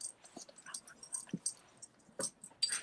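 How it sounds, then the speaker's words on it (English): Metal tags on a dog's collar jingle in short, irregular bursts of soft, high clinking as the dog moves about nearby. Faint breathing and shuffling come between the jingles. "You need to put some like rubber tags on that collar so it's not so loud."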